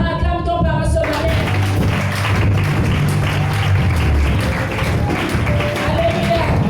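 A church congregation claps and cheers steadily throughout, a dense continuous wash of applause with voices and instruments mixed underneath.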